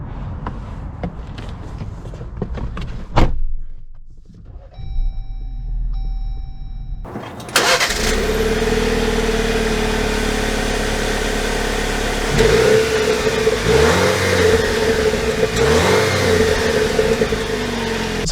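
A 2022 Jeep Wrangler Rubicon Xtreme Recon with an AEV build and a 2.0 turbo engine starts abruptly after a quiet stretch, then settles into a steady idle broken by two or three short revs, loud and close.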